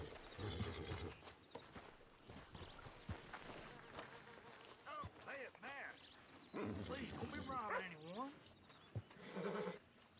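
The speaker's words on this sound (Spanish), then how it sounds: "es ese caballo" Horse whinnies and neighs with clip-clopping hooves in the Red Dead Redemption II video game, several descending whinny calls mid-clip over steady game ambience and movement, fairly loud and close.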